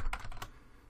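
Computer keyboard typing, a few quick close key clicks in a short burst, heard alone without talk.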